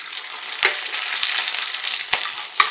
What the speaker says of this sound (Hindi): इसे गर्म होने देंगे, और जैसे ही रिफाइंड गर्म होता है हम इसमें ये बारीक कटा हुआ लहसुन